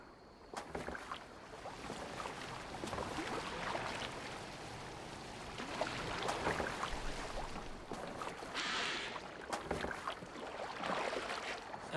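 A boat moving through water in the video game Assassin's Creed Valhalla, with steady rushing and lapping water and soft wind, moderately quiet and continuous for about twelve seconds.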